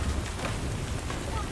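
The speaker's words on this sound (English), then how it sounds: "No end to this rain." Steady, dense rain in the video game Death Stranding hisses and patters continuously across the whole span, even and fairly loud with no breaks or other sounds standing out.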